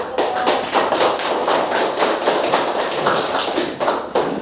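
Students in a classroom applaud a group presentation, a dense, even patter of clapping hands sustained for a few seconds, close and fairly loud.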